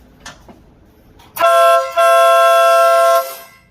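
A newly installed tornado horn on a car gives a short blast and then a longer, loud, brassy one after a pause, preceded by a few faint clicks.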